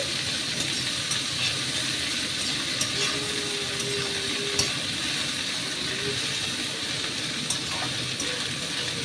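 Okra sizzles steadily in a pan with egg masala, a soft, even crackle of frying that runs continuously with no talk over it.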